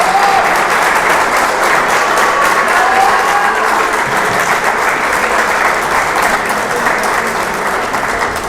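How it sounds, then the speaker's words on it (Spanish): Steady, loud applause from an audience at a museum exhibit marking a municipal hospital's centenary, clapping for a woman named Ana, a thick continuous wash of many hands with no talk over it. "Le brindamos un aplauso a Ana también."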